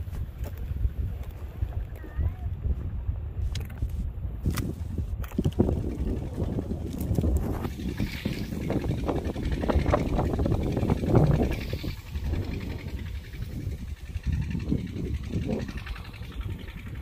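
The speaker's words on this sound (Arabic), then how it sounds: "والهواء عالي" Strong, gusting wind roars across an open outdoor hunting area, a steady broadband rumble with louder surges, dominating the scene without any speech.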